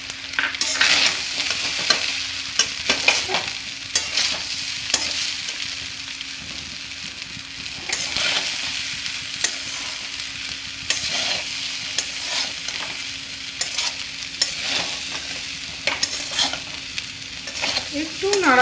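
Nabaratna pulao with paneer is stirred in a sizzling pan, with repeated scraping strokes of a spoon against the metal over a steady frying hiss, loud and close, with no one speaking.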